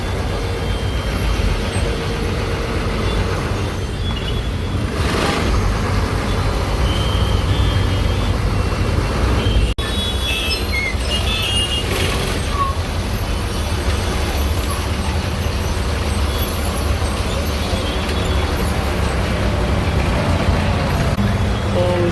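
Heavy road traffic, with trucks and buses, is backed up near Kalamboli after a container truck overturned. Loud, continuous engine rumble and road noise fill the scene, with occasional brake hisses and faint beeps.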